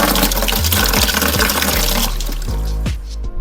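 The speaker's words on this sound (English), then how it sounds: "draining just a little bit of all the rest of the water out of here." Water drains out of an aquarium with a loud, close gush. Rhythmic gurgles and glugs repeat as the flow runs out, and the gushing fades toward the end.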